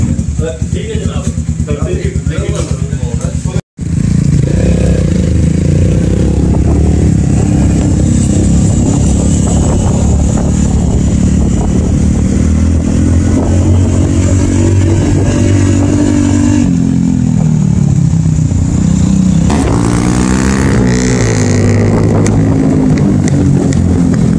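A Yamaha R3 motorcycle engine runs loudly and close by, idling with throaty rumble and rising into several revs, its pitch climbing and falling.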